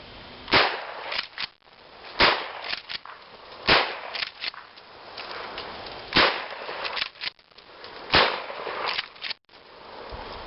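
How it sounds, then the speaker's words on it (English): Mossberg 500 home defense shotgun fired repeatedly at hedge apples outdoors, about six loud sharp blasts at irregular intervals, each with a brief crackling decay, and no talking between shots. "we're going to take these bad boys with the shotgun and see how the shotgun reacts"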